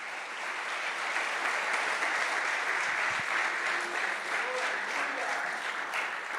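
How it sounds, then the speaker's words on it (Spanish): A church congregation applauds the Lord with loud, steady, continuous clapping that fills the whole stretch, with speech faintly mixed in. "¿No le da usted un fuerte aplauso al Señor?"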